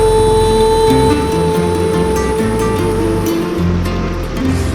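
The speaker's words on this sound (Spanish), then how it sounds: "Río caudaloso." Fast-flowing mountain river on a hike, a loud constant rush of water filling the scene with no gaps.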